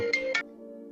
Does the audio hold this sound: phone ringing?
yes